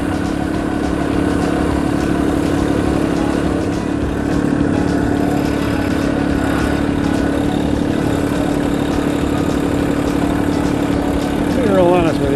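Kubota LX2610 compact tractor carrying a load, its engine droning steadily and loudly up close throughout with a constant low hum and rumble, a brief rising whine near the end.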